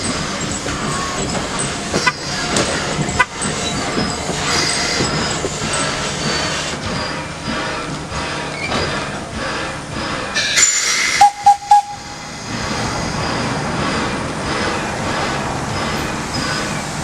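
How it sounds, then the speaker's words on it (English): A steam locomotive rumbles along steadily with hissing steam on the Strasburg Rail Road, a brief sharp whistle-like tone midway, then continued running noise. "Thomas cuts off from the consist and half runs around before stopping"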